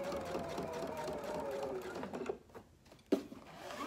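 Sewing machine running steadily while stitching across the top band of a market bag, a continuous mechanical whir that drops off briefly near the end before a short clack and restart.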